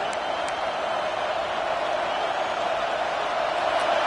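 A video game football stadium crowd roars in a steady, broad cheering wash during a red zone play, constant and fairly loud throughout.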